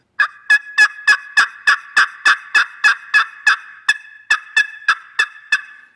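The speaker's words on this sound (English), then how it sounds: "This pot call is designed with a one-piece pot with a built-in sound chamber and crystal surface, matched with a waterproof striker, the polymer tip" A Knight and Hale Stranglehold turkey pot call with a crystal surface, played with a waterproof polymer-tip striker, gives about seventeen loud, sharp yelps in a steady rhythm, alone and up close.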